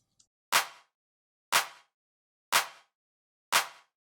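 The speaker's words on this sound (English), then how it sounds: "Very basic clap with a little bit of reverb on the chain." A basic clap sample with a little reverb, as used in music production, hits four times at an even one-per-second pulse. Each clap is sharp and crisp with a short fading tail, isolated against silence.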